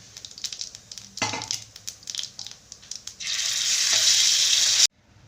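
Ginger garlic paste goes into oil with cumin for baingan bharta, first crackling in short bursts, then swelling into a loud, continuous close sizzle that cuts off abruptly.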